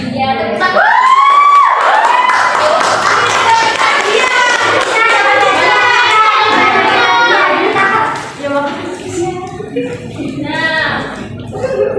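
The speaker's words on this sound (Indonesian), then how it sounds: "Ya, tepuk" Children in a classroom clap and cheer together, a loud, continuous burst of applause mixed with high excited shouting voices that eases off near the end.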